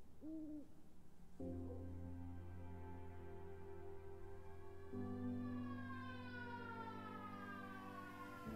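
Siren in the video game Conway: Disappearance at Dahlia View: after a brief hooting tone, a loud sustained wail with layered pitches starts, then shifts to a higher, rising tone partway through, continuing steadily to the end with no talking.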